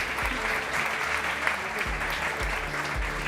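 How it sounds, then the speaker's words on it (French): An audience applauds an award presenter at an economic prize evening, a dense close clapping that holds steady for a few seconds with a low murmur underneath. "Sous vos applaudissements."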